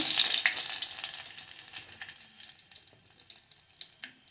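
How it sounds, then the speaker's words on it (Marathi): Curry leaves dropped into hot oil on a low gas flame for tempering a moong dal dish, a close, steady crackling sizzle that slowly fades, with no voices. "फोडणीला कढीपत्ता"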